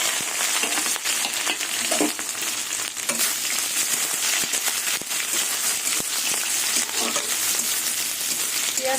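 Crushed garlic, onion and green chilli fry in hot oil with cumin, giving a steady, loud, close sizzle that runs unbroken throughout, with faint stirring scrapes underneath.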